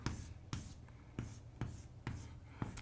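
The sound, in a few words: writing a truth table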